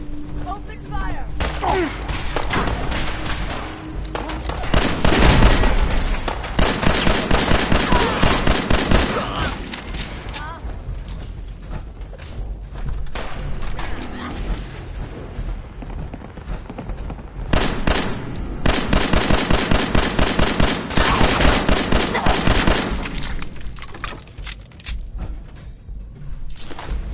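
Rapid bursts of gunfire from the Fallout 4 video game, several loud volleys over about half a minute with quieter gaps between them, and faint voices now and then.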